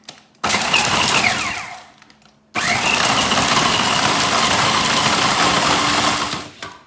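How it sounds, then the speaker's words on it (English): A blender pulses peanut butter, oats and dates in two bursts: a short whirring run, a brief stop, then a longer, loud, steady grinding run that cuts off at the end. "you just close it and then you start pulsing"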